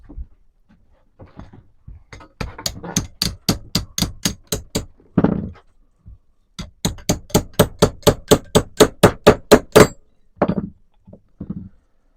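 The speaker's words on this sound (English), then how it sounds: "Get a hammer." Rapid bursts of metallic hammer blows, each run of quick ringing strikes separated by short pauses, close and loud.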